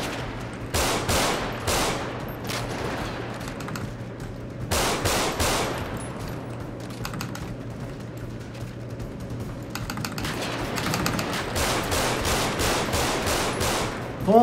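Rapid bursts of gunfire in GTA roleplay rattle repeatedly, with short volleys and pauses, moderately loud and mixed with clicking keys in the background.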